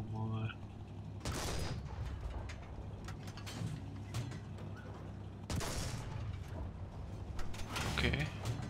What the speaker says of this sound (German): Schießen wir mal dahin.